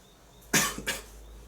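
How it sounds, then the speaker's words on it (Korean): A person gives two quick, sharp coughs close by in a quiet room, the first louder, with no talking around them. "왜 기침하는 거야?"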